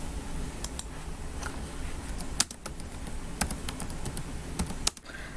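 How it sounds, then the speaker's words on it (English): Quick, irregular clicks of typing on a computer keyboard, with sharper keystrokes standing out, heard close and fairly faint over a low steady background hum. "Why am I typing to you?"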